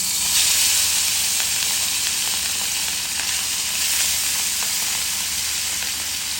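Rohu fish pieces, rubbed with chili and salt, frying in hot oil with a loud, steady broadband sizzle that holds for several seconds at close range, with no voices.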